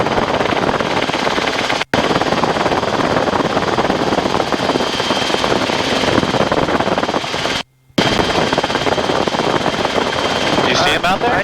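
Low-flying helicopter at about 1,000 feet over a house, its loud rotor and engine roar dense and continuous with rapid chopping pulses, broken by two brief cutouts.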